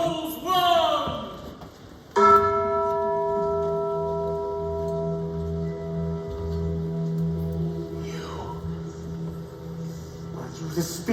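A church bell tolls once in a dramatic Christmas Carol audio drama, its long ringing hum sustaining and slowly fading over ominous background music.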